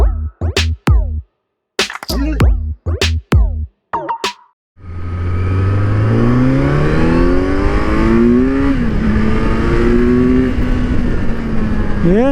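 Motorcycle of about 23.5 horsepower accelerating hard on a ride, engine roaring loud and close in a long rising pull with gear shifts, after a few seconds of choppy bursts and wind buffeting.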